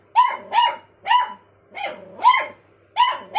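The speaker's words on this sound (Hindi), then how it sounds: "ये अपने कटोरी देख के भौंकने लग रहा है" A pet dog barks at its empty food bowl indoors at night, repeatedly at a steady pace, about seven sharp barks close by, with quiet gaps between them.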